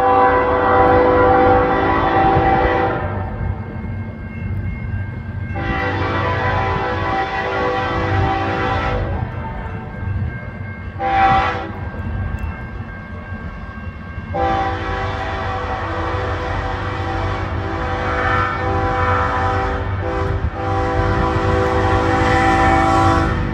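CN freight train B791 with an ACU-rebuilt NS 7302 locomotive in the second slot rolls past at Ladysmith, a steady loud rumble of engines and cars broken by several long horn blasts, with no voices.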